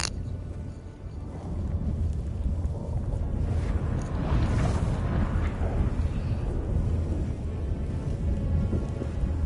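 Thunder from a storm in the video game Witcher 3 rolls as a deep, continuous rumble that swells in the middle and fades slightly, heavy and sustained with no talking.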